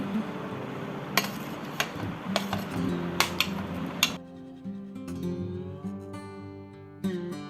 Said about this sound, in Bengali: এখন এটাকে আমি একটা বাটিতে তুলে নিচ্ছি।